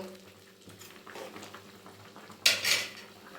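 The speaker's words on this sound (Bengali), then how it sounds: "এবার আমি অন্য একটি পাত্রে তুলে নেব" A cooked vegetarian papaya dish with cashews is scooped from a pan into another pot. Quiet scraping leads to a sharp metallic clatter of utensil against cookware near the end, with no talk.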